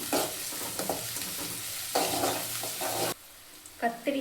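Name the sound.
onions, curry leaves and green chillies sautéing in a pan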